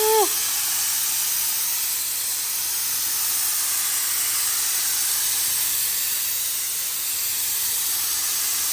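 An aerosol spray can lays a coat of etch primer on a tinny boat build, a steady close hiss running unbroken for nearly nine seconds.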